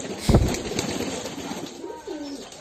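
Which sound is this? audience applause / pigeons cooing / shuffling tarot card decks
pigeons cooing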